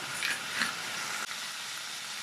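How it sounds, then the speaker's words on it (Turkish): Mantı sauce with spices sautéing in a pan over low heat, a steady, close, even sizzle with a faint stir or two and no voices. "Ocağın altını iyice kıstım ve kavurmaya devam ediyorum."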